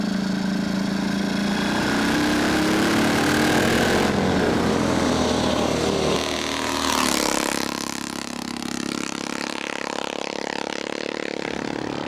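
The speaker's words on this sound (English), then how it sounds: "Today, Klaus Hürlimann rides this 1928 model with overhead valve 350cc engine." A 1928 Motosacoche 350cc overhead-valve motorcycle engine runs steadily and loudly throughout, with a shift in tone partway through as it changes pace or passes.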